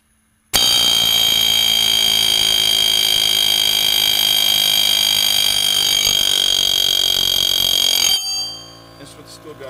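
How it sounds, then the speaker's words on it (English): A loud pneumatic air hammer rattles continuously in a harsh buzzing burst for about eight seconds, then cuts off, leaving faint clatter, working on a wheel stud of a 1998 Chevrolet Suburban. "Now we're going to try the air hammer again."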